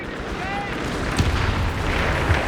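A grenade blast in the Company of Heroes 3 strategy game, heard as a dense rumbling boom that blends into continuous battle noise, with no voices over it.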